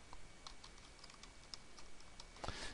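Someone types on a computer keyboard, producing a quiet, close series of irregular key clicks with a short flurry at the end; no talking.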